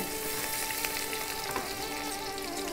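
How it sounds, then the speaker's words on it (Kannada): About 25 grams of finely chopped garlic sizzles in hot oil for a baby corn Manchurian, a loud, steady crackle with occasional stirring scrapes, close up and without talk. "ಎಣ್ಣೆ ಕಾದಿದೆ. ಇಲ್ಲಿಗೆ ಒಂದು 25 ಗ್ರಾಮು ಬೆಳ್ಳುಳ್ಳಿ ನೈಸಾಗಿ ಹೆಚ್ಕೊಂಡಿರೋದು, ಚಾಪ್ಡ್ ಗಾರ್ಲಿಕ್ ಹಾಕಿದ್ದೀನಿ."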